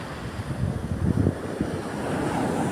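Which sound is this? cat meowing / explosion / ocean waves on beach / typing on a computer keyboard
ocean waves on beach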